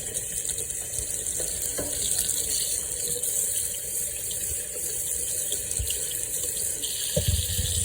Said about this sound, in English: I'm just going to run some water in here